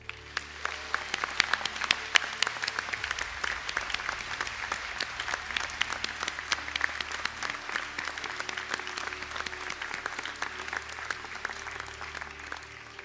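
A graduation conferring ceremony audience gives graduates of the Sustainable Food Systems and related master's programs a steady round of applause, a dense, even patter of many hands sustained throughout at moderate distance, with no talk over it.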